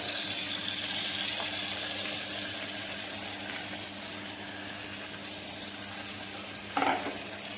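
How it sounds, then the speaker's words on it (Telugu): Cleaned prawns fry in hot oil for a tomato prawn dish, giving a continuous hissing sizzle at close range with a brief stirring clatter near the end. "మనం బాగా ఇలా కడిగి శుభ్రంగా పెట్టుకున్న ప్రాన్స్ తీసుకొని ఆయిల్లో వేసేసుకోవాలి."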